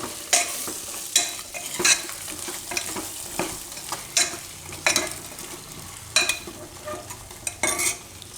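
Spice masala with sev bundi for a brinjal and potato curry is stirred and roasted in oil, a soft sizzle broken by repeated sharp scrapes and clinks of a spoon against the pan.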